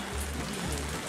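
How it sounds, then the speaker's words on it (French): Heavy rain drums steadily on a surface, a dense, unbroken hiss of drops with no voices. "il pleut beaucoup"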